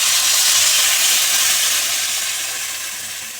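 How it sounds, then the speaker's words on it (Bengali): Water poured into a hot pan of poppy seed paste for a pomfret fish curry bursts into a loud, broad sizzling hiss that slowly fades, with no voices. "এবার জল ঢেলে দেবো।"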